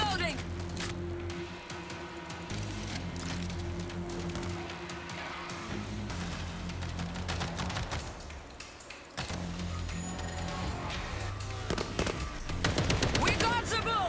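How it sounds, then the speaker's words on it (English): Machine gun fire in the World War Z video game during a Moscow level, a sustained loud burst of rapid shots over game music and effects, with in-game voices calling out. "Machine gun is ready!"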